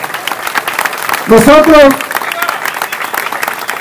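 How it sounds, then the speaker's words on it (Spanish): Audience applause at a public ceremony marking the start of road widening works, a steady wash of clapping throughout with a short spoken word breaking through in the middle. "pido un aplauso para quien diera inicio a todo este proceso"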